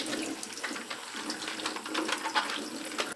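Running tap water splashes steadily over napa cabbage leaves being washed by hand for kimchi, a close, continuous broadband rush with small irregular splashes throughout and no talking.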